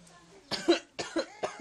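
A baby coughs in a quick series of about four short, close bursts, with brief pauses between them.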